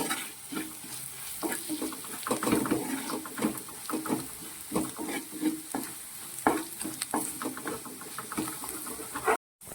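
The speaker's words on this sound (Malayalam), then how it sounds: "ഇതും കൂടി ചേർത്ത് നന്നായിട്ടൊന്ന് വഴറ്റിയെടുക്കണം" Fish masala with added chili sautéed in a pan, a steady close sizzle with scraping stirs of a spoon running throughout, cut off abruptly at the end.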